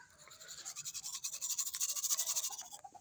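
Teeth are brushed with a toothbrush up close, with quick rhythmic scrubbing strokes that repeat steadily for a few seconds, then taper off at the end.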